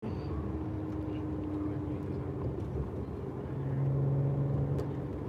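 Road traffic near Fort Lauderdale Beach, heard from inside an Audi S4 as a steady low rumble of engines and tyres that swells slightly toward the end.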